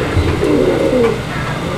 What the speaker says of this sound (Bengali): এটা হচ্ছে মাদি কবুতরটা